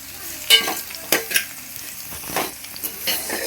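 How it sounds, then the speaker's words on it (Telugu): Shrimp shells fry in a hot pan for a spicy shrimp-shell powder, a soft continuous sizzle broken by several sharp scraping stirs of a utensil against the pan, close up. "ఇక దోరగా వేపుకుందామండి."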